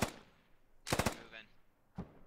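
Short machine-gun bursts in the military shooter game Squad: a loud multi-shot burst near the middle and a single sharp report near the end, with faint background noise between.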